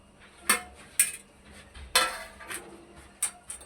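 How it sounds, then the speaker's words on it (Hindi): A spoon stirs bottle gourd kheer slowly cooking in a pot, knocking and scraping against the metal in a series of distinct clinks about half a second apart. "ये मैं आपके सामने मिक्स कर रहा हूँ"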